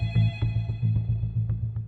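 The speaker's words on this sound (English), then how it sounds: "the phone rang" A telephone ringing in a home, its bell sounding in rapid repeated bursts with a low buzzing tone, close and clear with no voices.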